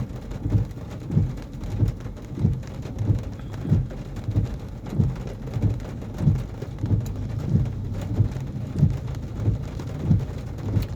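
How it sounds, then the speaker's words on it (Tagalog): Heavy rain falls steadily on a roof and street, a dense even hiss with a pulsing low rumble beneath and no voices. "pumapatak-patak na naman ang ulan sa bubong ng araw"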